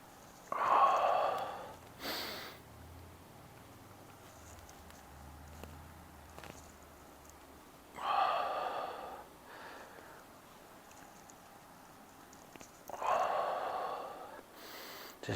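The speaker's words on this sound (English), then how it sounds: "Big deep breaths." Deep breaths are taken during a hip mobility stretch, three slow, close exhalations spaced several seconds apart, with quiet gaps and a soft rustle between them.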